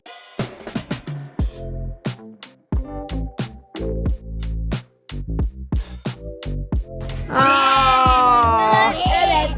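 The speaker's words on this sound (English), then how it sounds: "cute little goats." Goats at a zoo bleat in a string of short, nasal calls scattered across the scene, growing louder and more sustained toward the end, with a brief voice or two mixed in.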